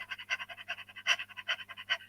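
A person pants rapidly in short, rhythmic breaths, about a dozen quick huffs in two seconds, close and fairly soft over a faint hum.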